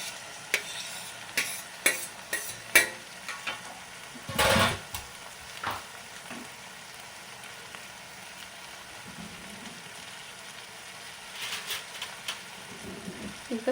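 Chopped tomatoes go into a pan of lightly fried onions for a paneer kurma and are stirred, giving a soft steady sizzle under scattered clinks and scrapes of a utensil against the pan, with one louder burst partway through.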